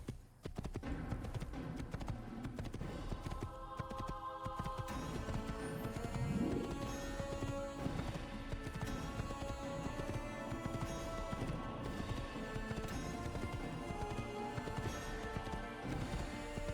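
Horse hooves clip-clopping in the video game Assassin's Creed, set in Jerusalem, a steady rhythmic trot under layered game music with a brief whinny partway through.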